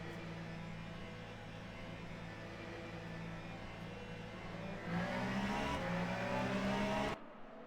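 Race cars in the Le Mans Ultimate racing game pull away at a safety car restart, with a steady engine drone whose pitch climbs as they accelerate before cutting off abruptly.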